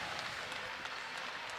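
Steady applause from a large crowd filling a school gym at a girls' state semifinal basketball game, a dense even wash of clapping with no voices standing out.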